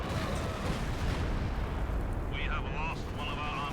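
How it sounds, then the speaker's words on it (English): Artillery fire in the video game Company of Heroes 2, dense rumbling explosions and booms layered continuously, heavy and loud, with a brief high whistling tone near the end. "Artillery support called in here as well."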